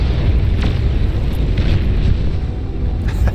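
A buccaneer unit blowing up as it is shot down in the strategy game Beyond All Reason, a loud, sustained rumbling explosion that fills the whole stretch with dense low-end roar and no voices.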